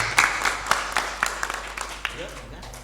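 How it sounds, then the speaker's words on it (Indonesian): Audience applause at an Indonesian talk gathering, a dense patter of clapping sustained for about three seconds, with voices mixed in. "Tepuk tangannya jangan setengah-setengah."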